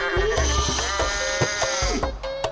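A goat from an old-school skating video game, heard as a run of loud, wavering bleats with several close repeated cries and a few clicks and thumps between them.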